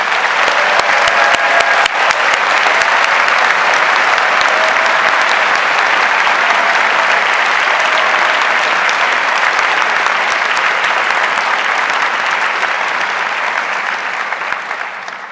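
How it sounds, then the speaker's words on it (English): A large crowd of about 1,300 people applauds students at an annual honors convocation, a loud, thick wall of clapping that holds steady for a long stretch before tapering off at the end. "join together in applauding your achievements and your excellence"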